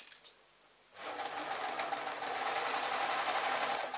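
A sewing machine stitches a padded dust cover, starting after a brief quiet moment and then running steadily and close up, with no talking.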